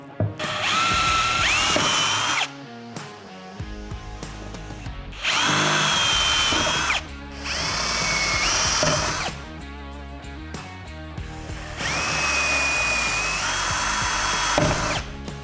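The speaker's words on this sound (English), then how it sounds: "you're going to need a 3/16 drill bit to drill out the 4 rivets" A power drill with a 3/16 bit drills out rivets on Sea-Doo Speedster seat inserts, its high whine running in three long bursts with short pauses and clicks between, close and loud.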